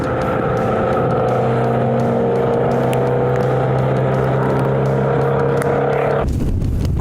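A black and white Porsche 928S and an MGB race car roar past on a circuit, a loud sustained engine drone with steady pitch that cuts off abruptly into rougher, gritty engine noise near the end.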